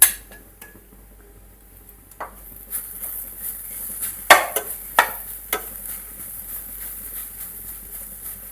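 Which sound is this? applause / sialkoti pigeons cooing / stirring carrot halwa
stirring carrot halwa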